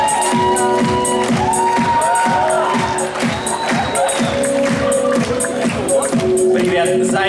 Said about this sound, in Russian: Под аплодисменты.